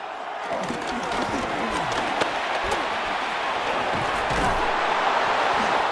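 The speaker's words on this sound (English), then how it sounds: "Crowd on their feet." Stadium crowd roaring and cheering in a Madden 26 football game between the Carolina Panthers and New Orleans Saints, a dense sustained wall of noise that swells slightly toward the end, with scattered claps and thumps within it.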